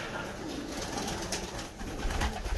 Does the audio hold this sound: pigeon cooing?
yes